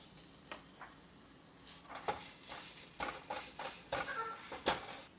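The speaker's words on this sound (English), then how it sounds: "Now I'm going to add 2 pounds of ground beef to my skillet, and we're going to brown that" Two pounds of ground beef browns in a skillet for an enchilada casserole, giving a steady, faint sizzle with scattered crackles and soft scraping stirs that grow livelier toward the end, close and alone.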